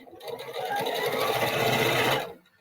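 A sewing machine stitches a drawstring bag in one steady, fast run of needle strokes lasting a couple of seconds, close and loud, then winds down and stops.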